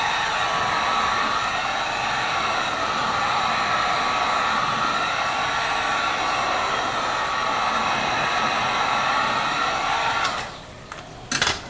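Heat gun roaring steadily and close up as it warms a car fender, a 2018 Subaru WRX, before the fender is rolled; the continuous airflow hiss holds for about ten seconds, then cuts off, followed by a few brief handling noises.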